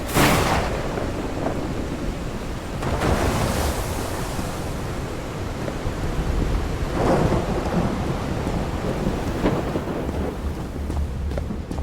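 A thunderstorm in the video game Call of the Sea rolls through with several heavy thunder crashes at irregular intervals over constant rain, wind and surf, loud and close, with no voices.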